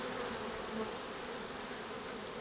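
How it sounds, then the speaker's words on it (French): A dense, steady buzzing of many honeybees fighting among themselves inside the hive, continuous and unbroken with no voices. "ça se bagarre dedans, c'est les abeilles qui se battent entre elles quoi"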